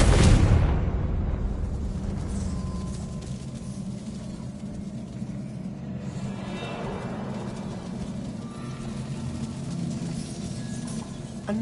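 Confringo blasting spell going off in a Hogwarts video game, a sudden booming explosion at the start followed by a long rumbling roar that fades into a sustained low wash.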